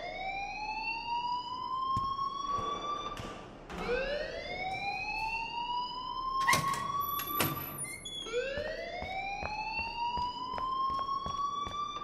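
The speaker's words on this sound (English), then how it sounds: "please turn off that alarm since that's your job" Siren-like alarm in the video game Life Is Strange wails in repeated rising sweeps, loud and continuous, with a few short clanks and bangs over it and no talk.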